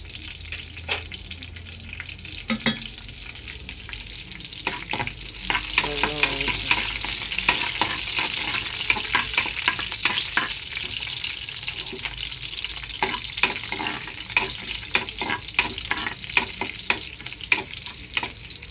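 Mustard seeds and a green chilli crackle in hot oil, with sharp irregular pops spattering over a continuous close sizzle and occasional stirring, no voices.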